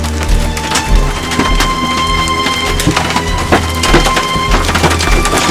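Hard hailstones pelt a car roof in a dense, loud, irregular clatter, with sharp individual impacts standing out from the steady drumming.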